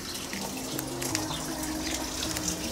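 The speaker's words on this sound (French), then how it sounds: "La fontaine." Water from a garden fountain runs and splashes in a steady, even trickle, heard close and fairly quiet with no voices over it.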